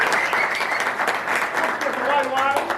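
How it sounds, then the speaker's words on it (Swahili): Crowd clapping for OBC Obina at a Kenyan public gathering, a continuous wash of hands with audible talk and cheering voices layered over it, loud and close. "Makofi pia kwa OBC Obina."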